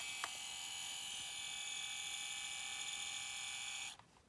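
A small label printer running steadily, a faint high electronic whine and buzz that holds for about four seconds, then stops abruptly, followed by a quiet click.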